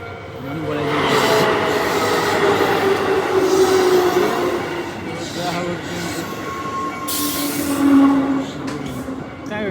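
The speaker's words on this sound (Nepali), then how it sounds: "ट्रेन आउनु लाग्यो" A train rumbles into a station in Kyoto with a rising roar and metallic wheel squeal, voices murmuring beneath the steady rolling noise.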